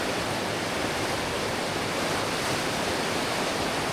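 Otter Creek pouring into Dry Fork in the wilderness, a loud, dense, steady rush of flowing water that fills the whole scene without a break.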